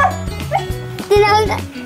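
A small dog yaps and whimpers close by in short bursts, with excited voices talking over it and some background music.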